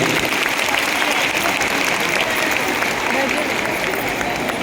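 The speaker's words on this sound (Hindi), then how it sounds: "स्वागत में जोरदार तालियां बजाते रहिए" A crowd applauds steadily to welcome guests onto the stage at a Delhi government event launching educational kits for anganwadi centres. The clapping is loud, dense and continuous throughout, with no break.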